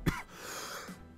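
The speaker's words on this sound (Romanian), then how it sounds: "stați un pic că vine să tușesc chiar" A single short, sharp cough from a man, close and fairly quiet, followed by a brief breathy tail.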